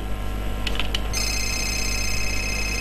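A telephone rings in the Fahrenheit video game, a loud, steady electronic ring that starts after about a second of brief beeps and then holds on alone.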